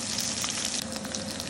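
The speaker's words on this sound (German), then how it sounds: "In die gleichen Pfanne jetzt den Fisch einlegen und weiter braten." Fish fillet sizzles in a hot pan, shared with potatoes and onions, giving a steady close crackling fry with soft spitting bursts and no voices.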